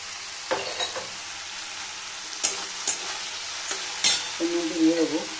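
Taro stems and prawns fry in a pan, a soft continuous sizzle punctuated by repeated scraping stirs and clinks of a spatula against the metal, moderately close with no voices.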